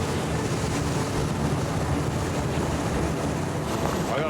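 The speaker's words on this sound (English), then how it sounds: "Yeah, that wind's picked right up." Strong wind roars without a break on a sailing boat at sea, a loud, constant broadband rush buffeting the microphone, with water and waves churning underneath as conditions turn from calm to rough.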